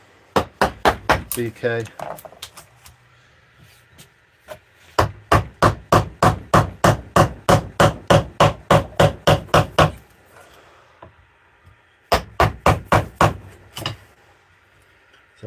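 Mallet blows drive a gouge into a wooden bowl being hand-carved, landing in steady rapid bursts of sharp knocks with short pauses between runs, close and loud, with brief talk now and then.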